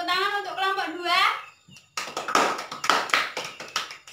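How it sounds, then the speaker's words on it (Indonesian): A classroom of students breaks into brisk, close applause for group 2 after a voice speaks, the many overlapping claps ringing out loud and uneven for about two seconds. "Mari berikan tepuk tangan untuk kelompok 2."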